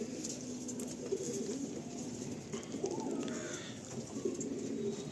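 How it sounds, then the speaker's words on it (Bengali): Pigeons in a loft coo steadily, a low throaty murmur rolling on throughout with small rustles and shuffles over the top and no voices. "খুব হার্ডি পায়রা।"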